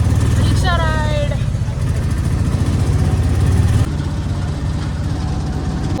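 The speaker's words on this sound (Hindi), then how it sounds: "Rickshaw ride." An auto rickshaw engine drones steadily and loudly throughout a ride, with a brief whistling tone early on. Voices murmur indistinctly over the engine noise.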